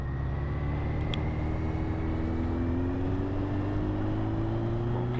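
Suzuki GSX1400 motorcycle engine droning steadily while riding, a loud, constant low hum with a pitch that climbs slowly, mixed with heavy wind rush throughout.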